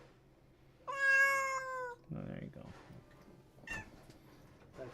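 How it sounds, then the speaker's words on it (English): A pet cat lets out one loud, drawn-out meow close to the microphone, followed by rustling and a short spoken phrase from a person. "and yeah, so that's my cat."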